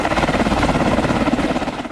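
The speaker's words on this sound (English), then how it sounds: "This is what a standard Black Hawk helicopter sounds like." A standard Black Hawk helicopter makes a steady, loud, dense rotor and engine roar with a fast pulsing chop throughout, close and continuous, with no voices.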